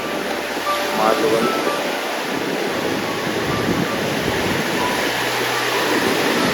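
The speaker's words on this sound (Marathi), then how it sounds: "तारकर्ली बघ समुद्र किनारा" Continuous roar of surf washing onto Tarkarli beach on the Konkan coast, with wind buffeting the microphone at times.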